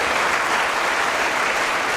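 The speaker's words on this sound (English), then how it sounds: "give a thunderous round of applause for this historic moment" Thunderous applause from a large audience at a military heritage and culture event, a loud, dense and unbroken wall of clapping that stays steady throughout.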